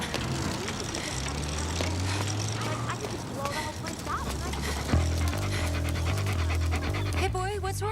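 A puppy pants rapidly in a street, the quick breathy rhythm running steadily under other background sounds and what seems to be speech.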